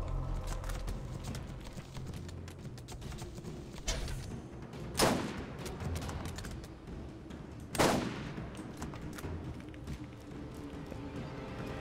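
Video game gunfire in Borderlands, a continuous rattle of shots over busy game noise with two louder, sharper bursts standing out partway through.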